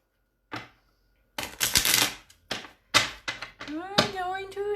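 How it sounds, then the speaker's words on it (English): Tarot cards being shuffled by hand in several quick riffling bursts, close and crisp, separated by short pauses, with a voice speaking toward the end. "I'm going to shuffle."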